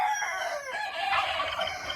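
Two young roosters crow in a loud, raspy, unsteady call lasting about two seconds, close by with no talk.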